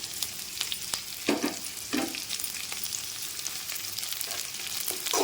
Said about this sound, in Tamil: இப்போ வந்து நல்லா இஞ்சி, பூண்டு, வெங்காயம் இதெல்லாம் வந்து நல்லா வதக்கலாம்.